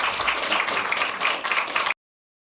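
A press conference audience claps for the newly introduced New York Liberty head coach, a close, steady patter of many hands for about two seconds before stopping abruptly into silence.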